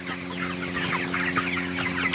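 Broiler chickens clucking steadily in a crowded poultry house, many overlapping calls close by over a constant low mechanical hum.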